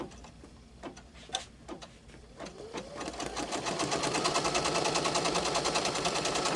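An embroidery machine stitches out a circles quilt block. Scattered ticks and thumps build into a fast, steady mechanical chatter that grows louder and stays even, close by with no talk.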